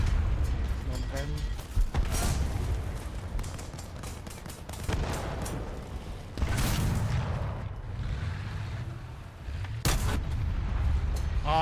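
Tank cannon shots in War Thunder, several loud booming blasts spaced seconds apart over rumbling engine noise, with a voice talking throughout.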